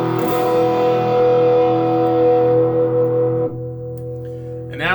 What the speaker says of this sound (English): now we're going to the Bass Breaker or Ball Breaker 15. Hear that? With distortion.